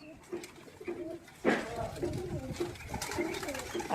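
Domestic pigeons coo in soft, repeated low phrases at a house loft, several birds overlapping close by, with a louder burst of wing or shuffling noise midway and faint talk in the background.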